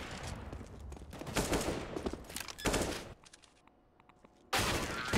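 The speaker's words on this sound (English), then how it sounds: "4 headshots with the AK is pretty nice." AK rifle fire in a Counter-Strike match on the Train map, rapid bursts of automatic gunfire in several clusters with short quiet gaps, sharp and punchy, ending on one more loud burst.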